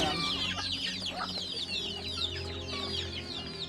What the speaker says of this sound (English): Mom's got about 50 head of baby chickens and half-grown chickens in the tubs.